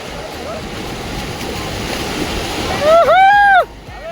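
Rough sea surf rolls onto a Goa beach in a broad, continuous wash with wind buffeting the microphone, and a voice rises briefly near the end.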